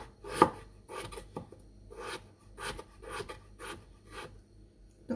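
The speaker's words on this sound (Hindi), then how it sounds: "अब बारीक बारीक स्लाइस कर रही हूँ मैं इसे। इस तरीके से, अब इसी तरीके से मैं दूसरे हाफ को भी कट कर रही हूँ।" A knife slicing halved potatoes into fine slices on a cutting board, giving a steady series of crisp, close chopping strokes about once per second, with no talking.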